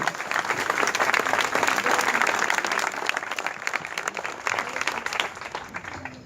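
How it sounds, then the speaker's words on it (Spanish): Audience at a political event marking 100 years of the Russian Revolution applauding in a sustained, dense burst of clapping that peaks early, then thins and tapers toward the end. "le pedimos un gran aplauso"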